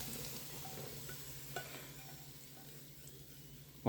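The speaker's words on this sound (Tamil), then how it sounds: "போட்டு இப்போ வந்து கிண்டி விட்டுக்கணும்" Roasted Tirupati laddu ingredients being stirred in a pan give a quiet, soft scraping and rustle with a faint click midway, ending in a sudden loud knock.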